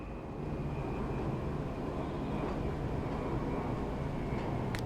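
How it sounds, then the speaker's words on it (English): A small airplane drones steadily in the distance, a faint, even engine hum that holds for the whole stretch without rising or fading. "we got a little airplane in the background."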